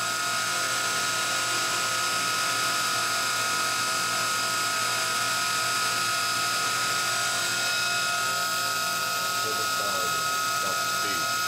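The spindle of a Kitamura Mycenter 2 vertical machining center runs steadily at 7,000 RPM, giving a constant high mechanical whine and hum that stays close and even throughout, with a brief voice partway through.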